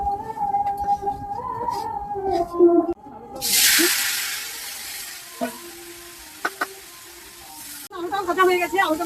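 Potatoes frying in hot oil for biryani, a loud bright sizzle that swells in midway and settles to a steady hiss, with someone talking before and after and a few clinks of utensils.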